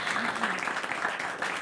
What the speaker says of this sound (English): Applause for our speakers.